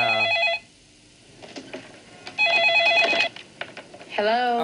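Electronic telephone ringtone with warbling bursts, ringing twice around brief voice sounds and ending on a third rising chirp, loud and close.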